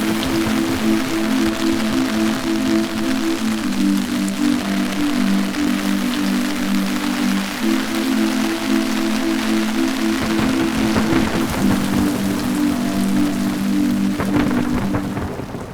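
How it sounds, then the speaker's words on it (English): Steady rain falls in Japan during the rainy season, a constant dense hiss of drops, with a low steady hum running underneath throughout. "Today is a rainy day."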